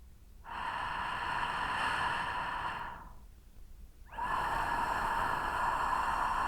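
Slow breathing made with friction deep at the bottom of the throat, as in a meditation breathing technique: two long, close, breathy strokes with a soft rasp and a short quiet gap between them.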